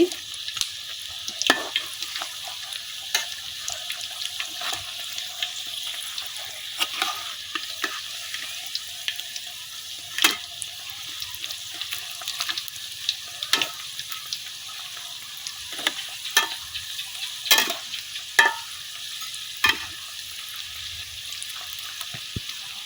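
Egg rolls frying and sizzling in a pan as they are turned over, a steady close crackle broken by repeated sharp scrapes and taps of a utensil against the pan, with no talking.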